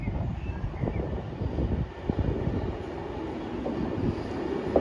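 A diverted Avanti West Coast Pendolino electric train running from Liverpool Lime Street to London Euston passes by, giving a steady rushing rumble with some rattling throughout.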